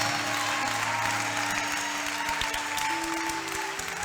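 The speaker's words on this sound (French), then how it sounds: "Oh, look at the way you are clapping." A church congregation claps steadily and loudly throughout, with dense applause under sustained music and no clear pauses.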